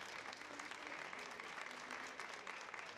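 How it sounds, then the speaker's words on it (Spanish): An audience at a book festival in Mexico applauds a poem with steady, dense clapping that holds evenly across the moment, with no voices standing out. "Un aplauso para el poema La Maestra, por favor."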